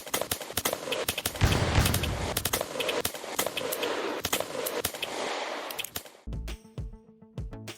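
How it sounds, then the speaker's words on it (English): Cowboy Duel shootout video game: rapid, frantic gunfire crackles in dense bursts, nearly continuous and loud, ending in a few game chimes and tones. "A simple little shootout game with oddly in-depth mechanics"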